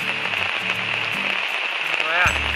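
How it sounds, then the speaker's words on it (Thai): Rain falling steadily in a national park forest in Khao Sok, a constant dense hiss of drops on surfaces, near and fairly loud, with brief low sounds mixed in. "ก็ฝนตกซะอีก"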